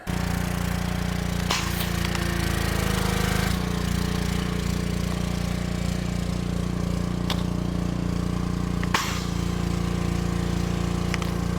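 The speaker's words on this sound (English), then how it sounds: "Okay, I'm gonna start the pressure washer." A pressure washer's small engine runs steadily nearby, a loud, unbroken droning hum lasting the whole stretch, broken only by a few faint knocks and clicks.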